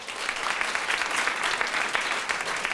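A studio audience on a political talk radio show bursts into brief, dense applause, an even wash of many hands clapping at once with no pauses.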